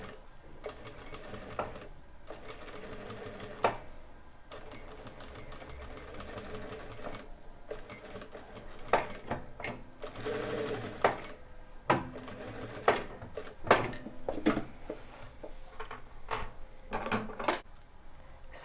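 A sewing machine with a binder attachment fitted stitches binding tape in steady mechanical runs, broken by short pauses and small clicks as the fabric is turned at a corner, with no voices.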